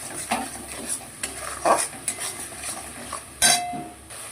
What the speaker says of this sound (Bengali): এর মধ্যে দিয়ে দিচ্ছি নুন জিরে আর ধনের গুঁড়ো হলুদ আর হচ্ছে কাশ্মীরি লঙ্কার গুঁড়ো এবার এটাকে ভালো করে আমি মিশিয়ে নেবো